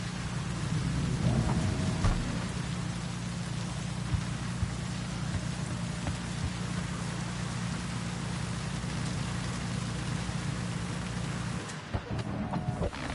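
Steady rain pours in a Cyberpunk video game city, a dense continuous wash with a low rumble underneath, loud and close, easing briefly near the end.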